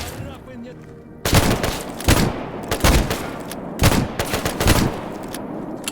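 Gunfire in the S.T.A.L.K.E.R. GAMMA mod, several loud separate shots and short bursts spread across the moment, each ringing out over a low ambient background.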